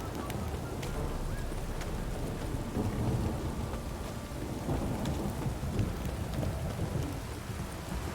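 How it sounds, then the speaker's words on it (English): Rolling thunder from the video game Witcher 3: Wild Hunt rumbles low and continuous beneath steady pouring rain, a dense storm soundscape with no voices. "And the thunder."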